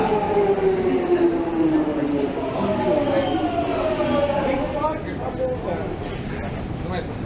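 A London Underground train rolls into a station with long, shrill squealing wheels and a rumbling roar, then settles into a high steady whine as it slows.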